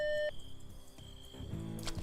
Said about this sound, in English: If you could leave your name and number at the sound of the beep, I'll try to get back to you as soon as I can.